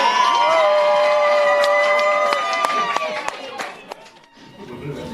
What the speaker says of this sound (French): je souhaite, cher président, qu'on applaudisse très très fort pour ce bureau qui sera tout de suite élu